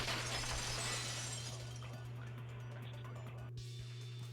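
A vase shatters in the Danganronpa 2 video game, a loud burst of breaking glass and ceramic fragments tinkling and settling over a few seconds above a steady low game hum.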